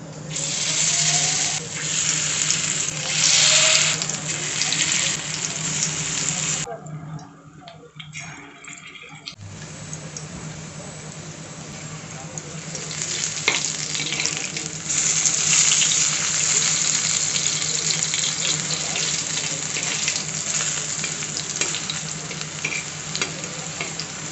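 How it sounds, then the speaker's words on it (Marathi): Eggplant slices frying in hot oil in a pan, a steady loud sizzle and crackle running throughout, briefly cut away midway before the bubbling resumes just as strong. "तेल तापलेलं आहे याच्यामध्ये आपण काप टाकून घेऊयात"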